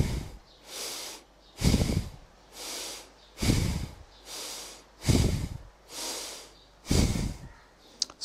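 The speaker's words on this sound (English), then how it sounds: "Now slowly come back and breathe 5 times." Slow deep breathing close to the microphone, alternating strong airy inhales and exhales at an even pace through several full breaths, loud and with no talking.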